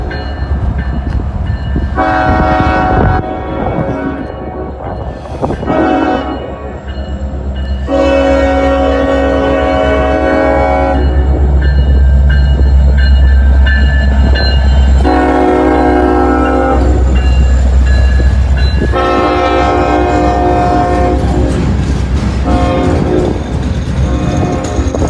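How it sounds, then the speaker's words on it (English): A long freight train rolls past close by, its horn blasting repeatedly in several long, loud blasts over a constant rumble and clatter of wheels, with no one talking. "This guy was a little horn happy."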